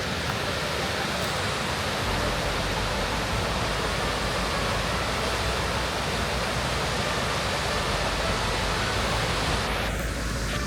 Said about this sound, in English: Just some rapids.